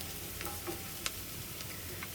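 Whole spices and onions fry in hot oil for a goat brain curry, a steady close sizzle with a few soft stirring clicks and scrapes against the pan.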